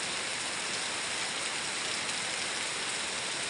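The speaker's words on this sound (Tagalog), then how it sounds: "Ang lakas na naman ng ulan." Steady, dense rainfall pours down continuously, a loud hiss of heavy rain with no pauses or voices.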